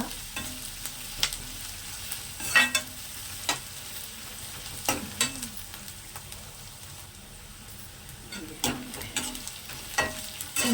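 Onion, garlic and ginger fry in a pan for baby corn sabji under a soft, steady sizzle, punctuated by repeated spoon taps and scrapes as it is stirred, with no talking.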